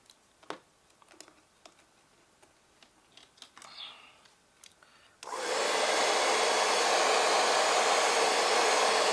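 Light ticks and taps come first, then a hair dryer switches on and blows a steady, loud, close rush of air while hair is styled with heat, with no speech.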